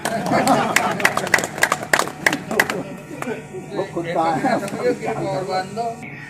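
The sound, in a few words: audience applause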